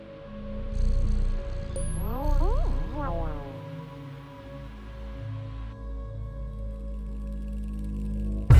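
A cat in the video game Stray gives a few short rising meows in the first seconds, set over a steady game soundscape of low ambient hum and soft background tones.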